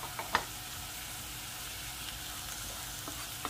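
Onion, ginger-garlic paste and crushed green chilli sautéing in a pan, a quiet, steady sizzle with a few faint spoon taps at the start and end, no voices.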